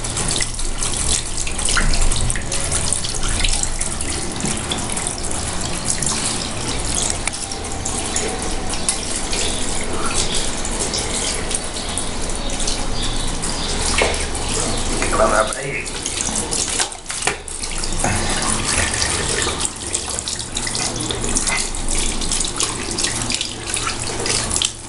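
Steady shower water pours continuously while a white rabbit is bathed, a loud unbroken gush filling the whole stretch, with faint voices in the background.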